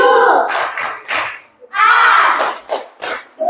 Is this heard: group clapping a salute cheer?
yes